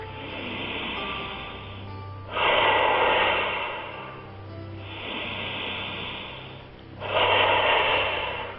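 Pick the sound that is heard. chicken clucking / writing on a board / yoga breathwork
yoga breathwork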